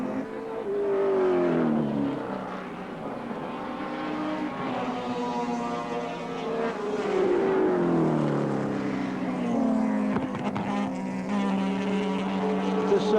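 Big V8 touring cars from the 1984 Australian Touring Car Championship race at Wanneroo Raceway, engines roaring loudly and steadily as they pass close by, pitch sweeping up and down through gear changes and acceleration with no talk.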